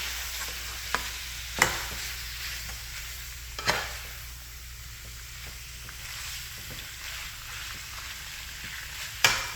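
Thai red curry sizzles and fries steadily in a pan while it is flipped, with a few sharp scrapes and clanks of the utensil against the pan over the continuous hiss.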